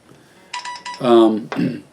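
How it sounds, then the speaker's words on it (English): A phone's ringtone chimes in a quick run of bright repeated tones, then a longer melodic phrase, close and clear indoors with nothing else underneath. "Yes, phone, I hear you. You can stop now."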